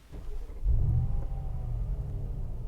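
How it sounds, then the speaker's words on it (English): A Mercedes G500 AMG with a V8 bi-turbo engine starts up in a snowy setting. A deep rumbling roar swells quickly and then settles into a steady, loud low idle close by. "It sounds amazing, because this is a V8 bi-turbo."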